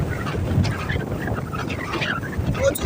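Strong gusty wind from Cyclone Remal on the banks of the Rupnarayan river, a dense, rushing roar buffeting the microphone steadily, with faint voices of people nearby.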